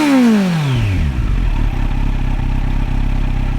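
A Kawasaki Z900 motorcycle with an SC Project aftermarket exhaust revs high, then drops in pitch to a deep, throaty idle, loud and close.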